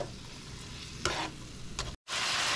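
Chicken pieces browning in a frying pan sizzle softly and steadily, with a couple of brief stirring scrapes and a short dropout near the end before the hiss returns stronger.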